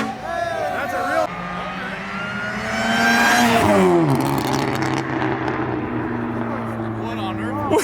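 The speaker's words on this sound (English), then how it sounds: "That was a supercharged Cobalt SS right there." A supercharged Chevrolet Cobalt SS revs loudly as it sweeps past near a car show, its engine note rising and then dropping away, and people are talking nearby.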